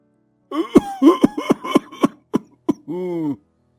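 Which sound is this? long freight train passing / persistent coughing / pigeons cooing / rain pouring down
persistent coughing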